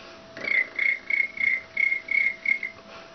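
A voice or whistle imitates a cricket chirping, with eight short, even, tonal pulses in a steady rhythm, close and fairly faint, alone.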